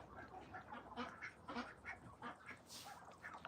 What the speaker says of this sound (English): Mindless Duck says cool